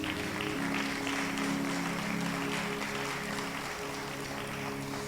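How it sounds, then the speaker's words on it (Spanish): A church congregation claps steadily during a Spanish-language sermon, a dense, even wash of applause lasting the whole stretch at moderate, slightly distant level, with faint tonal background underneath. "Le das un aplauso a la palabra del Señor."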